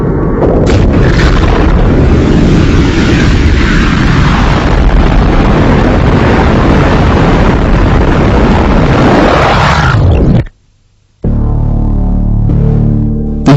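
A huge rumbling explosion effect depicting the Big Bang roars loud and sustained for about ten seconds, cuts to brief silence, then gives way to a low droning tone.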